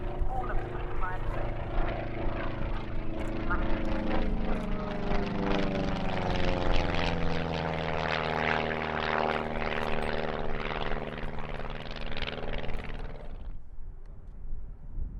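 A propeller aerobatic aircraft flies a 16-point roll at an airshow at Duxford, its engine a loud sustained drone that rises and falls in pitch as it passes, then cuts off near the end.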